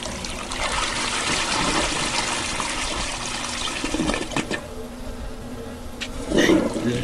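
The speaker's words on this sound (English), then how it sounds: "You gotta keep on flushing this." A toilet in the horror video game The Jusou flushes with a loud rushing, gurgling swirl of water that tapers off into a trickle, followed by a short burst of noise.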